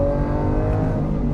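A Lamborghini Aventador S V12 engine revs and builds under acceleration, a loud continuous droning roar close by with no talking.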